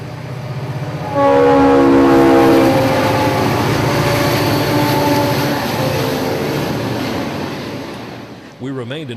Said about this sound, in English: We remained in Fort Pierce for train 218, a Fort Lauderdale to Bowden train of FEC and CSX intermodal, plus manifest traffic for CSX and NS.